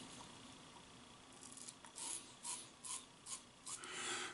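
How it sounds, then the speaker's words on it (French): A Timeless bronze safety razor makes a first pass with the grain, a soft scratchy rasp of the blade cutting stubble in short, repeated strokes, close and quiet. "Première passe avec dans le sens du poil."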